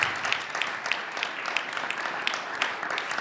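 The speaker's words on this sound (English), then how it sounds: "We give a round of applause for our panelists here." An audience at a community-building panel event applauds the panelists, a moderate, continuous patter of many hands clapping, somewhat distant and without talk.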